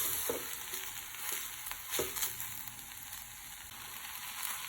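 Spinach stirs in a pan on an electric stovetop, with a quiet steady sizzle broken by a few soft scraping strokes.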